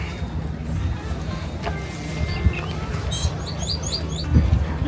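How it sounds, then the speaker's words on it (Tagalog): Small birds chirp and tweet in brief high bursts over a steady wash of beach wind and surf on Samal Island near Davao. "May parang ibon."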